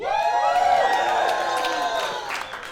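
A comedy club audience cheers, whoops and claps loudly, with a dense burst of crowd noise that peaks early and then slowly fades across the room.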